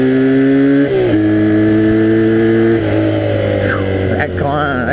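A 1982 Honda 250cc flat track motorcycle is ridden fast, its engine droning loud and close with pitch steps as it shifts and revs, under a rider's voice.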